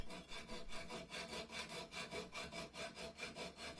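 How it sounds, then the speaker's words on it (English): A hacksaw cuts a metal lug on a Swiss Army compass while canted at an angle, producing steady rhythmic rasping strokes, close and even, roughly three or four per second, with no voices. "I'm canting the hacksaw at an angle."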